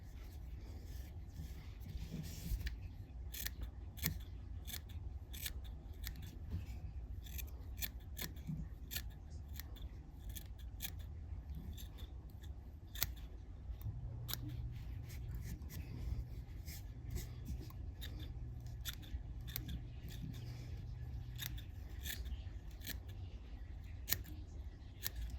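Close, crisp cuts from curved scissors trimming material while a fishing fly is tied, dozens of quick snips in uneven clusters with brief pauses, over a soft constant room hum and no voices.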